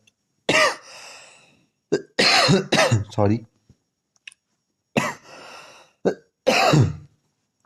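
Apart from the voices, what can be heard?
cough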